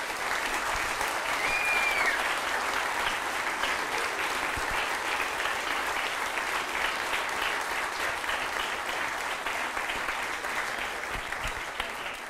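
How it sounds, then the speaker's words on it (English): A large conference crowd at a closing plenary session claps in sustained, dense applause that stays loud and steady for over twelve seconds, with no speech over it. "please, a huge, huge round of applause for everyone"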